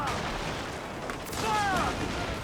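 Ship cannons firing during a naval battle in Assassin's Creed IV: Black Flag, a dense barrage of booming shots under steady loud battle noise, with voices shouting over the din.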